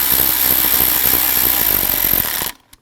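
A power tool whirs loudly and steadily up close for about two and a half seconds, snugging down bolts during ignition coil work on a 2001-2009 Volvo S60, then cuts off abruptly into silence.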